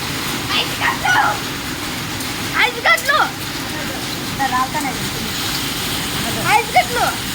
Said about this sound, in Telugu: ఐస్ గడ్డలు సౌండ్ అంతా ఐస్ గడ్డల సౌండ్